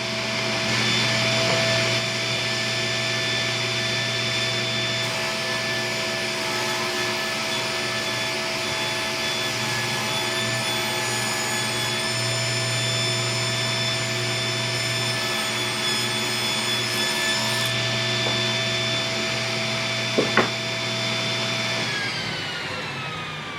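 A Delta 10-inch table saw or jointer runs steadily while yellow cedar practice pieces are fed through, a continuous loud motor whine with a constant tone, outdoors in autumn, and a brief knock near the end.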